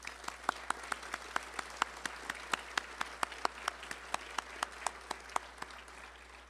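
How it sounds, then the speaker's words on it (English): An audience applauds at an urban design charter awards ceremony, with sharp individual claps standing out over a soft, steady wash of clapping. The sound is faint and distant, with no voices. "they do deserve an enormous hand of applause"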